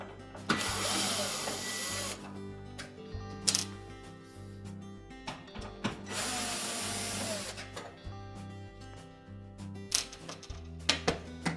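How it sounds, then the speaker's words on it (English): Screws come out of a Whirlpool range cooktop in bursts of power-driver whirring, with clicks and mechanical rattles between them, close and fairly loud with no voices. "So next we'll remove these two screws, one on either side."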